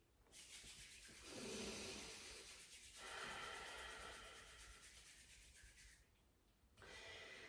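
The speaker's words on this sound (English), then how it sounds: "Bring your palms together and begin to rub them to create some heat and energy." Palms rubbed together during a yoga class, a soft close friction hiss in a few long strokes with short breaks between them, quiet and steady with no voice.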